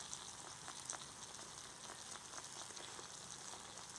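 Animal fat rendering down for tallow candles sizzles faintly and steadily in a pan over a fire, a soft continuous crackle with scattered pops and no voices.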